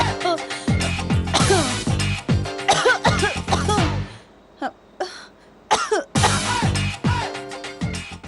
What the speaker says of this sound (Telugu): ఆపమని దగ్గుతో సిగ్నల్ ఇస్తా.